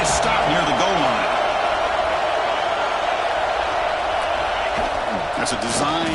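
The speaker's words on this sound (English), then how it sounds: "The crowd really making some noise now" A stadium crowd at a Texas A&M versus Texas college football game, with the home team near the goal line, keeps up a steady roar under a commentator's voice.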